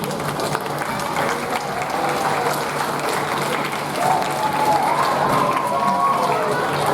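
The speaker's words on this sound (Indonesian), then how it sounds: "Kita tepuk tangan untuk Gor SD." A church congregation claps steadily and continuously in a large room during a Catholic Mass, a dense sustained wash of applause with faint voices mixed in.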